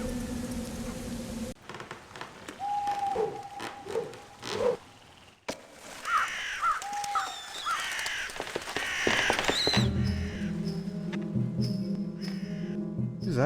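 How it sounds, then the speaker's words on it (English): Crows caw at night in a Dracula video game, several harsh calls scattered over a few seconds against shifting ambient game sounds and music, with no talk over them. "Oh hey, there's some birds."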